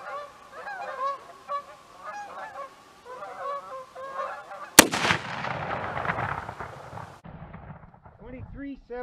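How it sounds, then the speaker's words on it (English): Geese honk repeatedly as they take off from a pond, followed by a sharp gunshot and a rumbling aftermath, with a few more honks near the end. "Got the geese flying off the pond anyway."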